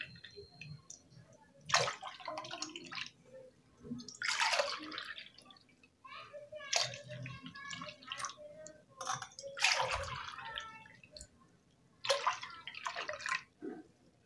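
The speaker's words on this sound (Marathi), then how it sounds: "इथे मी मिक्स करण्यासाठी अशा पद्धतीने ग्लास घेऊन मिक्स करत आहे" Raw mango panha drink being mixed in a glass, with close liquid sloshing, drips and splashes in repeated bursts separated by short pauses.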